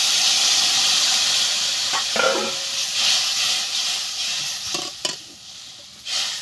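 Curry broth of water, salt and turmeric in a pan for a fish-skin dish comes to the boil, giving a steady hiss and sizzle with a few stirring scrapes and soft bubbling bursts near the end.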